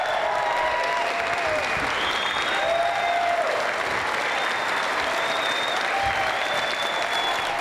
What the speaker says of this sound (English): Give a big round of applause to our guests for coming here tonight